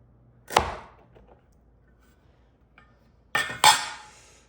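An oversized pizza cutter slices a small stuffed Chicago-style pizza in half, with one sharp crunching cut, a brief quiet pause, then a second louder double cut, all close and clear.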